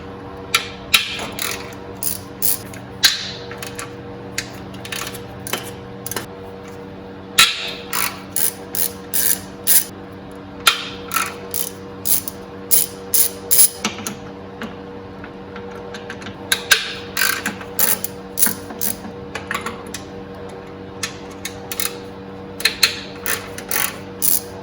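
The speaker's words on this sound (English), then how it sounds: "I do have my long extension on my ratchet just so I can make sure that when you start getting down in here, you got enough clearance." A ratchet on a long extension loosens engine bolts on a 2007 Nissan Xterra during a timing chain job, with bursts of rapid clicking repeated in runs over a low steady hum, close and loud.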